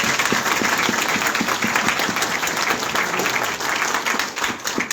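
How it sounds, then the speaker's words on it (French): A church congregation gives loud, sustained applause, a thick wash of many hands clapping that stays full throughout and eases slightly at the very end, with faint voices mixed in. "Nous allons l'applaudir cet esprit qui nous a bien fort."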